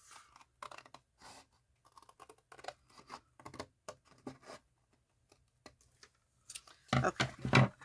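Scissors snip through fabric while a pocket bellyband is made, giving short crisp cutting and rustling bursts in an uneven rhythm, with a louder scraping flurry at the end.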